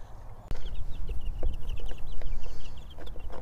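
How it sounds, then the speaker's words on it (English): Sixteen 3-week-old chicks, including light Sussex, buff Sussex and cream legbar, cheep in a rapid, continuous chorus of high peeps over low rumbling handling noise, close and fairly loud. "we've just taken delivery of our 16 little 3-week-old chicks"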